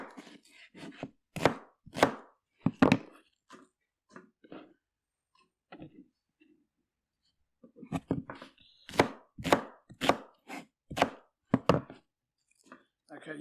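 Big onions are chopped on a board for curry base gravy: close, sharp knife strikes come in quick clusters, with a pause in the middle and a denser run of chops near the end.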